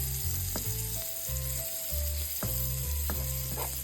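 Food sizzles and fries steadily in a pan while being stirred, with louder scraping clatters from the stirring utensil recurring every second or so over the constant hiss.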